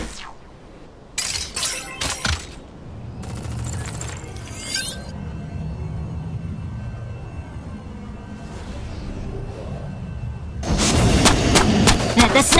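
Gunfire in a Steam video game, bursts of sharp shots and explosive blasts early on, then a rumbling stretch with mechanical whines, ending in a loud sustained barrage; a voice talks briefly over the game.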